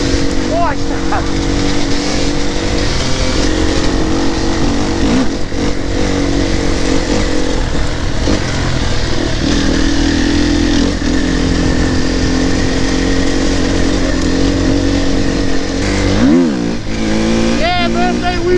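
An enduro motorcycle engine revving hard during a wheelie, a loud, close, buzzing drone with rising and falling pitch and a sharp rev surge near the end.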